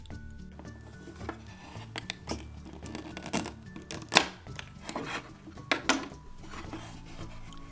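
A red tomato being cut in half with a knife, heard as soft, close cutting and clicking sounds with a few sharper taps of the blade, quiet and scattered over several seconds.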